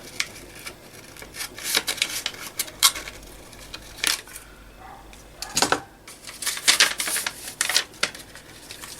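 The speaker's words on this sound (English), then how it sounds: "I'm just going to cut this little flap off here. I'll just snip that up there." Scissors snip a paper flap off a handmade pocket journal: a series of short, crisp cuts and paper rustles up close, in irregular bursts with brief pauses between them.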